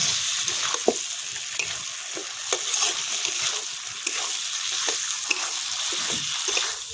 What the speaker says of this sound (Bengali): এই দেখুন চিকেন স্কিন আর কচু এই দেখুন কি সুন্দর ভাজা হয়ে গেছে